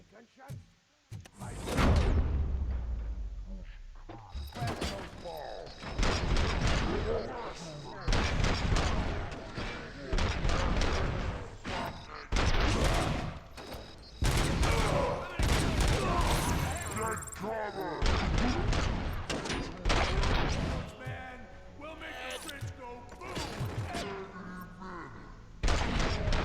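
Repeated bursts of gunfire and heavy thuds crackle through a loud, busy scene in the video game Robocop: Rogue City, with voices speaking over the action.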